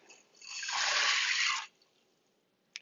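Dry black beans poured into six cups of water in an Instant Pot: a soft rattling, splashy rush swells for about a second and stops abruptly, followed by a single small click.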